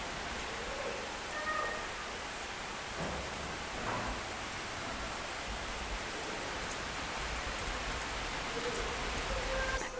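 Steady rain falls outside a screened balcony of an English cottage, a dense, even hiss that runs unbroken from start to finish with no voices over it.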